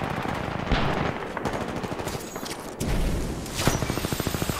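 Gunfire in the video game Titanfall 2 in a pilot-versus-pilot match: rapid automatic bursts and single shots crackle in quick succession, loud and close, with short pauses between volleys.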